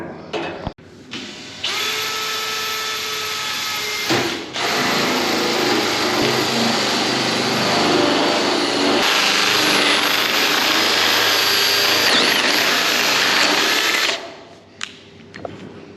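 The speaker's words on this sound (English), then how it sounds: "so you see we drilled a hole here with the hole saw" A hole saw cuts a hole while fitting a feed auger system, a loud, steady whining drill roar that runs for about twelve seconds before stopping, with a brief pause near the start.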